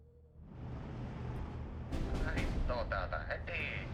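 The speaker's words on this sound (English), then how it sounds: "he's using 80mm mortars like 120mm mortars like the counter battery" Mortar fire in a strategy video game: a rumbling low boom swells after a quiet start, then sharper cracks and rolling detonations cluster in the second half, with a voice talking over the battle.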